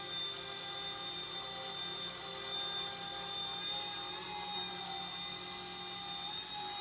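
An Eachine E120 BO-105 RC helicopter hovers indoors, its small rotor and motor giving a continuous high-pitched whine with steady tonal buzzing, close and unbroken throughout.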